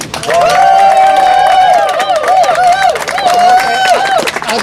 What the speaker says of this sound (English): Big round of applause for David and his legal team